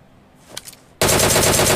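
PUBG video game gunfire: after a quiet moment with a couple of faint clicks, a loud, rapid automatic burst erupts and continues steadily to the end.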